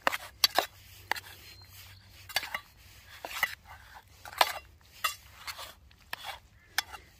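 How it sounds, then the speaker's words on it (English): A spoon scrapes and clatters against a pot while stirring mushrooms and ham over a camp stove, a series of irregular close knocks and scrapes over a faint low burner hiss. "Give that a stir up."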